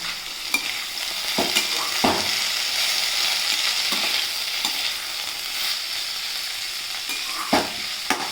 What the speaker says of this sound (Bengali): আর এখানে বসিয়েছি মিক্সড ভেজিটেবল ভাজাটা